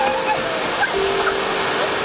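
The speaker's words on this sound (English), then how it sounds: "Look at the water. Look how pretty. It just comes down over the rocks." Whitewater Falls pours over rocks in a steady, full rushing roar that stays loud and unbroken, with faint voices and brief tonal sounds over it.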